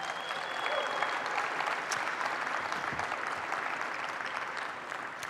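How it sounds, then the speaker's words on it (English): Audience at the RAMMYS 2022 restaurant awards gala gives a sustained round of applause, dense clapping filling the room evenly before tapering slightly. "let's give yourselves a round of applause"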